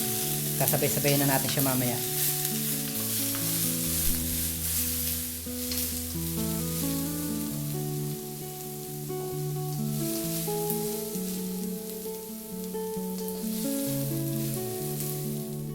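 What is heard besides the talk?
sautéing garlic, ginger and onion in hot oil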